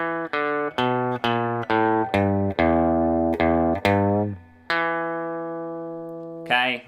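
An electric guitar plays a descending blues lick in E, a string of clearly picked, evenly spaced notes ringing one after another, the last note sustained longer before a final pluck.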